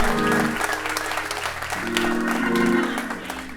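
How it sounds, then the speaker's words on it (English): An audience applauds at a live storytelling event, with steady clapping throughout and sustained organ chords playing beneath it. "let's give a round of applause for my friend and organist, Tedrick Bonds."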